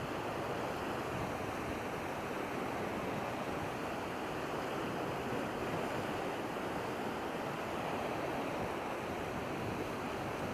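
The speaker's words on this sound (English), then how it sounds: "the wind's kicking up too" Steady, loud wind roars across an open shoreline at low tide, a broad continuous rush with surf-like texture and microphone buffeting, unbroken and without voices.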